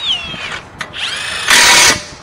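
A power tool tightens bolts during a front brake pad and rotor replacement on a seventh-generation Nissan Maxima, giving several loud whirring bursts with rising and falling pitch, the longest near the end, close up and without talk.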